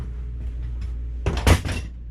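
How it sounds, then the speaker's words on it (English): A desk light knocked over, giving a sudden clattering burst of a few loud, close hits that settles into a short rattle against steady low background hum. "Oops, I just knocked my friggin' light over"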